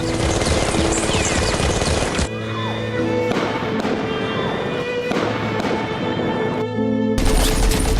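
Loud, dense bursts of rapid gunfire crackle continuously during the Pahalgam terror attack, with abrupt shifts in intensity and no voices.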